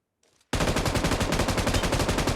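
Gunfire in PUBG Mobile: after a short near-silence, a loud sustained burst of rapid automatic shots rattles on evenly to the end.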